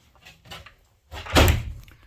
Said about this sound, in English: But the lid closes and I can get the latches on.